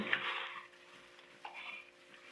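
Liver roll mixture being stirred in a bowl, with soft scraping and clinking of a utensil against the dish, quiet and close, plus a brief louder knock midway; no talking.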